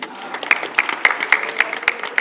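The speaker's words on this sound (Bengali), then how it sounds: "ওনার জন্য একটা হাততালি অবশ্যই দেবেন" A few audience members clap for a guest at a film gathering, giving sharp, evenly spaced claps about four per second at moderate volume with a faint tonal hum underneath.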